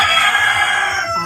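A rooster crows on a farm in North Carolina, one steady, loud, harmonic call held for just over a second, alone and close.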